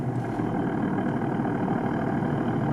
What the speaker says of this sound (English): You get a noise like that, and that's just gear rattle